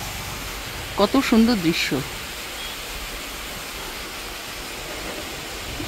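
Water rushes through a dam lock gate on the Tarafeni river with a constant, even roar like broadband noise, and someone briefly speaks over it.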